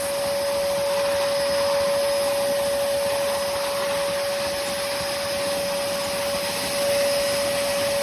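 A Hoover Commercial PortaPower lightweight canister vacuum cleaner runs continuously at close range, a loud steady motor whine with a sharp fixed tone and airy rushing suction, holding level with only slight swells in load.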